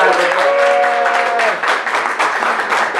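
Crowd applause at a Democrats community day gathering in Hillsborough, New Jersey, a loud, steady wash of clapping with a voice and some chatter audible underneath.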